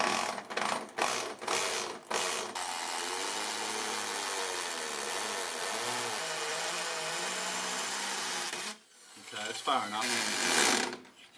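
A hammer drill bores through ceramic tile into brick behind it, opening with a few sharp bursts and then a long steady grinding drone. The loud drilling returns near the end.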